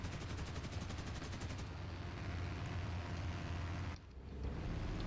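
Defensive gunners firing from a Havoc Mk1 bomber in War Thunder: a loud, steady stream of rapid machine-gun bursts over a continuous engine drone, pausing briefly near the end before the drone resumes.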